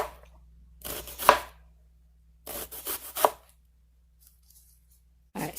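Knife slicing a small onion thinly on a board: two short bursts of quick cutting strokes, close and moderately loud, with a brief start of another at the end, no talking.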